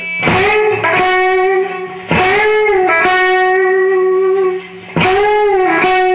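Distorted electric guitar notes bent upward in pitch with the third finger, struck three times and sustained between attacks, loud and up close.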